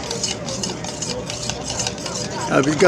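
A spoon scrapes and swirls steadily around a metal pot of Greek coffee, close and fairly loud, with a brief clink near the end.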